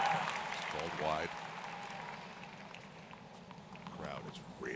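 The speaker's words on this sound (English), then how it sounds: "Crowd is really into this." A US Open quarterfinal tennis crowd cheering and applauding between points, a broad wash of clapping and roar that rises and fades under a commentator's talk.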